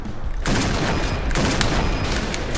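Heavy gunfire striking the player in Point Blank, loud, dense rapid shots and impacts filling the clip after a brief quieter opening, sustained and close.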